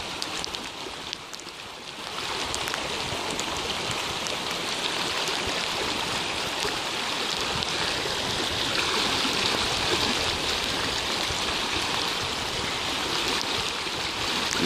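Upper Clear Creek rushing in a flash flood, a broad, continuous roar of churning water that swells after the first couple of seconds and stays steady and full, with no voices.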